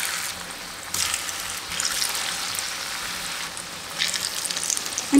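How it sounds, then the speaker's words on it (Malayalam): Tapioca (kappa) pieces fry in hot oil for a snack, giving a steady crackling sizzle that swells in bursts, close and moderately loud, with no talking. "ഇനി നല്ല ഗോൾഡൻ കളർ ആകുന്നതുവരെ നമുക്കിത് ഫ്രൈ ചെയ്തെടുക്കാം."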